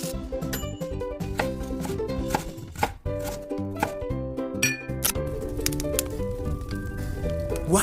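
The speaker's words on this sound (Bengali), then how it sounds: "আমি এখানে এলাচ, লবঙ্গ, দালচিনি আমি থেঁতো করে নিচ্ছি, ভালো করে গুঁড়ো করে থেঁতো করে নেব।" Cardamom, cloves and cinnamon pounded to a powder in a home kitchen, giving repeated sharp knocking and clinking strikes in an uneven rhythm, close and fairly loud, over steady tonal background music.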